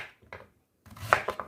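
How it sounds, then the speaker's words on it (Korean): Knife chopping daikon radish into large chunks for braised mackerel, a few crisp cuts early then a quicker cluster of louder chops on the cutting board, close and alone. "이걸 무를 쓸 때는 이렇게 무를 좀 큼직하게 썰어 주려고 해"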